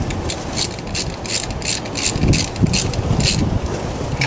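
A hand ratchet clicks in a quick, steady series of pawl ticks while tightening a spark plug on a 2008 Mazda 3, close up.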